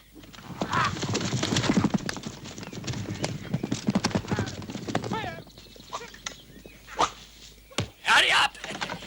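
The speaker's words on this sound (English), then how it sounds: "Robiro, saddle the horse." Horse hooves clip-clop in quick, irregular clusters amid bustling movement, with a whinny and voices talking and calling over the commotion.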